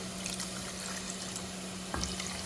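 Water pours steadily into a cooking pot while tilapia is being prepared for brown ugali, making a loud continuous running splash with a brief stronger gush near the end.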